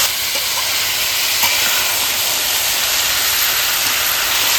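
Young jackfruit pieces fry with salt and turmeric in a pan, a loud, continuous, close sizzling hiss that stays even throughout with no talk.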